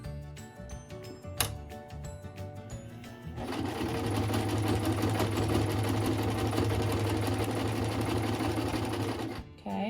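A sewing machine stitching a t-shirt quilt: a few slow clicks, then a steady loud run of rapid mechanical stitching that stops abruptly at the end.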